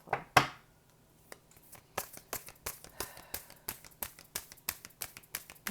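Tarot cards given a quick hand shuffle, a sharp snap followed by a rapid, regular series of crisp card slaps and riffles, close and quiet with no talking.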